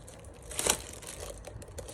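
Plastic wrap crinkling as it is peeled off a new Razer Cynosa V2 RGB keyboard, a short close crackle peaking once amid soft rustling.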